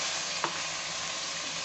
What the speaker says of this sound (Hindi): अभी हम इसे भूनेंगे अच्छा।